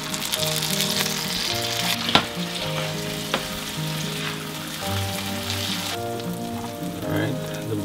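Trout fillets frying in a couple tablespoons of butter, a continuous close sizzle with spattering crackles and a couple of sharp knocks, while a tonal hum sits underneath.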